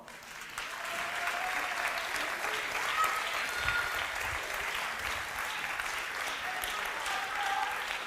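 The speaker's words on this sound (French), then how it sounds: "sous vos applaudissements" Steady, moderately distant applause from a seated audience at a Miss France beauty pageant as contestants return backstage, a continuous wash of clapping lasting several seconds with no voices over it.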